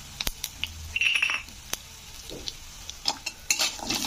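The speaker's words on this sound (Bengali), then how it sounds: "এই ফোড়নগুলোকে আমি একটু তেলে ভালো করে ভেজে নেব" Whole spices and garlic cloves, including fenugreek seeds, fry in oil for a sour greens pickle, a faint sizzle broken by scattered spoon clicks and scrapes, quiet and close, with no talk.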